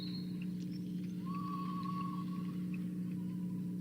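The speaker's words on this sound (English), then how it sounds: "I heard a whistle" A referee's whistle sounds at a high school basketball game, a thin sustained tone heard at a distance over a loud, steady crowd and gym din.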